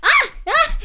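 Dog in the Roblox video game, two loud, close barks in quick succession, each a harmonic, slightly whiny yelp with no talk around them.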